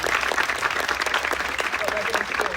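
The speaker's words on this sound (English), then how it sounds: "another round of applause for Dr. Bevan for also holding down the fort" A room full of people applauds at a family medicine residency graduation ceremony, steady clapping throughout, with voices mixed in beneath it.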